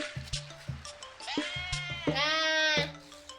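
A person imitates a sheep, giving one wavering voiced bleat over a background of rhythmic electronic game music.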